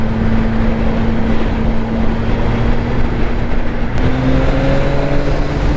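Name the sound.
CFMOTO 675NK motorcycle engine revving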